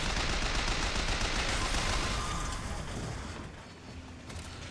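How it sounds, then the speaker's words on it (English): Rapid, continuous automatic machine gun fire from Bioshock Infinite pours out in a dense, loud stream of shots, with gunfire and impacts tapering slightly toward the end. "Fine, machine gun,"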